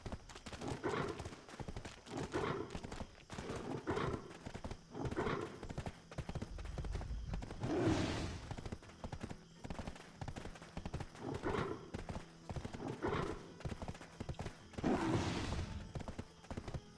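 Hooves of a horse clip-clopping in the Black Desert Online video game, a steady repeating rhythm of clear hoof strikes at moderate volume, with periodic louder bursts and no talk.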